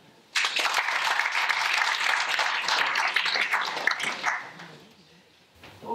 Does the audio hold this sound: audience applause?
yes